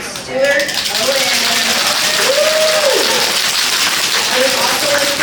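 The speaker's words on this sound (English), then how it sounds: "One more round of applause for Mayor Stewart Owen." A crowd applauds at a Wawa store grand opening in Mt Washington, Kentucky, a dense sustained clapping that runs throughout, with a voice speaking over it.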